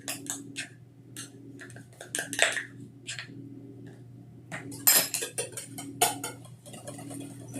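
A spoon or whisk clinks and scrapes in a bowl while Greek yogurt and lemon go into a keto cake batter, with irregular bursts of knocking and clattering between short quiet gaps.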